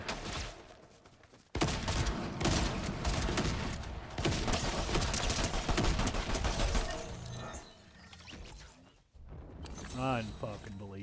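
Rapid bursts of gunfire in the video game Fortnite, dense and loud for several seconds before thinning into scattered shots and other game effects, with someone talking over it.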